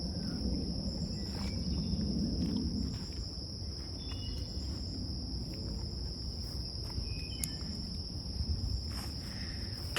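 Steady, dense chirping of crickets and other insects outdoors carries through the whole stretch, a constant high trill with a light breeze rumbling underneath and no voices.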